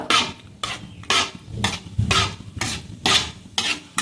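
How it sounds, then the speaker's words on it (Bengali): Whole garam masala (cinnamon sticks, cloves and cardamom) fries lightly in oil while a utensil stirs in a steady repeated rhythm, each stroke bringing a loud scraping burst of sizzle. "হালকা করে ভেজে নেব"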